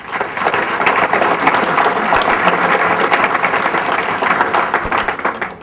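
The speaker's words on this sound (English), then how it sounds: "I wanted everybody to give a round of applause to all the awesome people here who put on DevOps Days Chicago." Audience at a DevOps Days Chicago conference gives the organizers a loud, sustained round of applause, dense clapping filling the whole stretch without a break.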